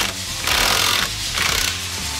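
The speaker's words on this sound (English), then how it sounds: "Using a 1 3/16 socket and an impact driver, remove the left-hand thread center clutch nut." An impact driver with a 1 3/16 socket hammers at a left-hand thread center clutch nut on a Harley M8 or Twin Cam, firing in two short, loud rattling bursts separated by brief pauses, close up and alone.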